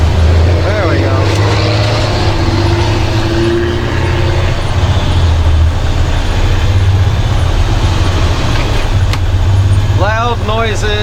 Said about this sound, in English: Loud noises everywhere. Trucks and other trucks and my engine and air conditioning